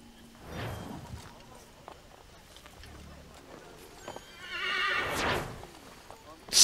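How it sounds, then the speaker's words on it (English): Horse in the Assassin's Creed 3 video game neighing and whinnying, with clip-clop hooves, two distinct calls a few seconds apart amid game ambience. "Stupid horse."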